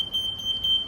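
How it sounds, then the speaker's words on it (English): An electric frunk controller on a 2024+ Tesla Model 3 Highland sounds a steady, high-pitched electronic beep tone while its opening speed is being set, close and clear with no talking. "So we keep pressing it and then we'll hear 3 beep."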